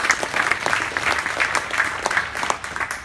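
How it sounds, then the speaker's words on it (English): An audience at a corporate thought-leadership evening on cloud computing claps steadily, a moderate and even wash of applause that welcomes a speaker to the stage. "round of applause for Theo"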